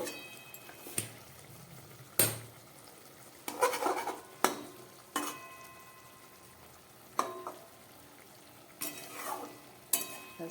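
Amudi fish curry with vegetables cooking in a pan, with a soft steady sizzle broken by repeated sharp clacks and scrapes of a utensil stirring against the pan, close by and with no talking.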